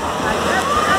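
Water in a park, likened to sea waves, rushes and washes in a continuous broad hiss, fairly loud, with a person speaking over it.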